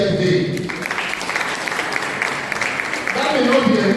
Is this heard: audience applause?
yes